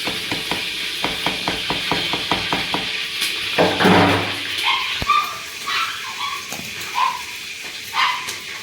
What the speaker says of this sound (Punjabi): ਲਿਓ ਜੋਤ ਨੂੰ ਭੌਂਕ ਰਿਆ